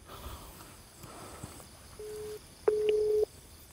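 Ringback tone of an outgoing phone call: a short steady beep followed by a longer one after a brief gap, fairly faint over a soft noisy background, with no speech.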